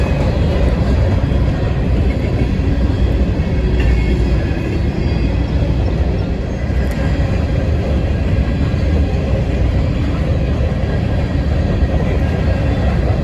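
A freight train rolls steadily across a railroad diamond, a continuous heavy low rumble of wheels and cars, loud and close with faint high metallic ticks, no talking.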